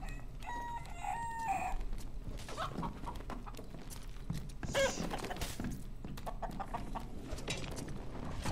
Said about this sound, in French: Il y en a un qui s'est transformé en poule.